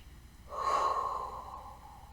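Deep breathing during an arm-circle exercise: one close, loud breath, drawn in sharply and released over about a second and a half, with no talking around it.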